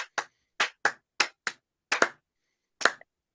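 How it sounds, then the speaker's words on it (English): A slow clap sound effect, about nine crisp, close hand claps spaced unevenly, with a short pause before the last one and silence between them. "Why do you gotta give him the slow clap?"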